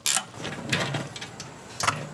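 A ratchet works loose the last oil pan bolt on a BMW E32 735iL, with a few quick clicking bursts, then scattered lighter ticks and a final sharp clicking run, close and fairly quiet.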